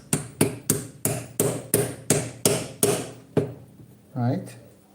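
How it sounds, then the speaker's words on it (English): A metal cone skirt for an oil gun's secondary air tube is struck with a hammer: about nine sharp, evenly spaced ringing blows close by, followed by a brief voice. "So now I will hammer them in."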